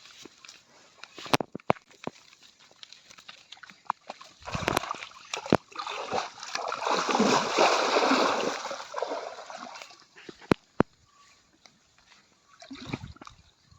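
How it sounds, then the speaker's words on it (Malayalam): Buffaloes on a Kerala farm led into water, making irregular splashes and sloshing that swell into a longer churning surge midway before settling into scattered splashes. "അവരെന്തായാലും വെള്ളത്തിൽ ഇറക്കാണ്ടിരിക്കാൻ പറ്റില്ല"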